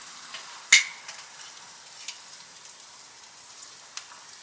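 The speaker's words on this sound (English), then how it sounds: "So I'm going to flip these tablitas." Tablitas are flipped on a Santa Maria grill outdoors: one sharp metallic clank, then a soft crackling sizzle with scattered faint pops, fairly quiet and with no talking.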